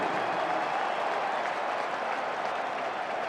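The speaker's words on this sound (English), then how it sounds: "gets upended to the delight of the crowd" A football stadium crowd roars after a hard tackle on a short kick return at an NFL game, Giants at Redskins, in a loud, steady wash of cheering and applause that holds for several seconds with no voice on top.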